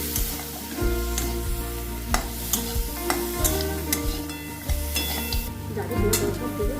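Mutton trotters frying in a pan are stirred with repeated, rhythmic spatula scrapes and clacks over a constant close sizzle, a faint voice murmuring in the background.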